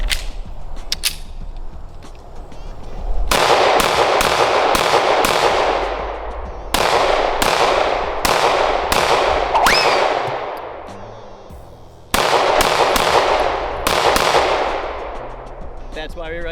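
A Shadow Systems CR920XP pistol fires 115 grain rounds at an outdoor range, with loud, close shots cracking in quick strings separated by short pauses and echoing briefly after each one.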